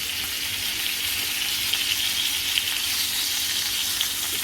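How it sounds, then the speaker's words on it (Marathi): Stuffed masala pomfret frying in a pan over a medium gas flame, a steady even sizzle and hiss with a few faint pops, close and continuous with no voices. "मिडियम गॅसवरती तळून घ्यायचे आहेत आपले"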